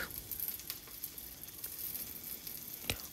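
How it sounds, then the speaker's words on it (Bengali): A hash brown frying in a pan gives a faint, steady sizzle with scattered small pops and ticks, quiet and close, with no speech. "অন্য দিক থেকে আমার হ্যাশ ব্রাউনটাও ভাজা ভাজা হচ্ছে"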